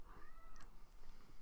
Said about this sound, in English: Kitty, shut your mouth.